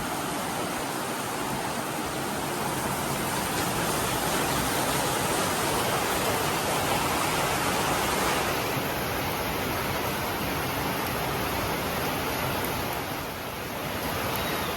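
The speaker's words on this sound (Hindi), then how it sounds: "जैसे ही हम घर में आए ना झम बारिश शुरू हो गई" Heavy rain pours steadily outside a home, a dense and constant rushing wash. It stays broad and loud with no voices over it.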